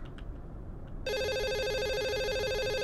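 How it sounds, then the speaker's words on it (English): Several phones ring together inside an indie horror video game, a sudden, loud, steady electronic trill that cuts in after a quiet start and keeps going to the end. "Now there's multiple phones ringing in our ear."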